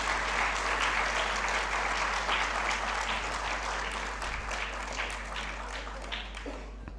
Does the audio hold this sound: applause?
yes